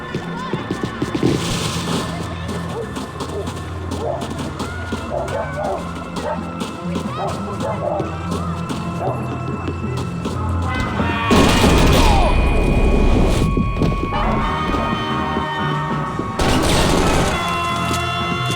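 Gunfire in the Max Payne 3 video game: bursts of loud cracking shots and booming impacts over a busy, cluttered background, heaviest in the second half, with voices shouting between shots.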